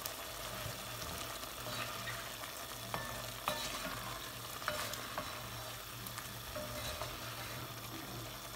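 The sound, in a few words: stew cooking in cast iron pot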